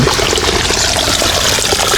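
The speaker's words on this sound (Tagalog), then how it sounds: "So, ang tubig na umaagos dyan, papuntang ilog, ay galing po sa fish pond." Water from a fish pond flowing toward a river, a loud, steady rushing and trickling stream heard close up with no talk over it.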